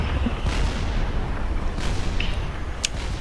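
Fat Boy cannons fire in Supreme Commander, dull booming shots thudding at irregular intervals under a dense, continuous roar of battle.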